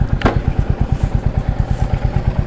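A Royal Enfield Meteor 350 motorcycle idles in neutral, its single-cylinder engine thumping in a steady, even rhythm close by, with a brief metallic clatter near the start.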